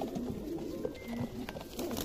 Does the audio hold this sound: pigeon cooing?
yes